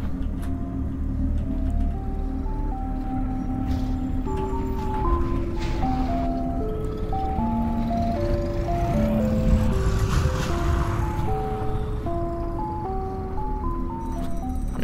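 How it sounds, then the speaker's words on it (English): Ice cream truck chime in the car combat video game Decimate Drive, a steady tinkling jingle melody repeating over a constant engine rumble and road noise for about fifteen seconds, with no talking. "That ice cream truck is very fast"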